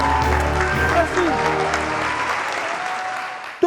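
A crowd claps steadily for a woman on a French-language show, the applause dense and close, holding at an even level for several seconds before ending in a sharp final burst, with a faint voice woven into it.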